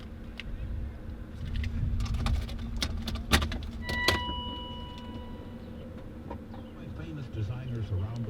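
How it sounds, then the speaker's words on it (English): Keys with a BMW remote fob on the ring jingle and click in close handling, with brief metallic taps and a few beeps, over a low steady hum inside a 1996 BMW M3 E36. "let's take the key, which does have a fob from BMW on it"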